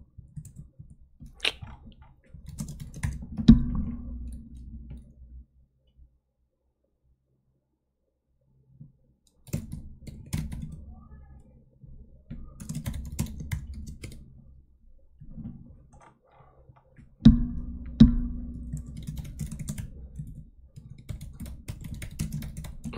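Code typed on a computer keyboard, clattering in bursts of rapid keystrokes separated by a few seconds of silence, close and fairly loud, with no talking.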